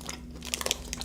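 A Butterfinger chocolate bar is bitten and chewed up close, giving a run of crisp, crackly crunches over a faint steady hum.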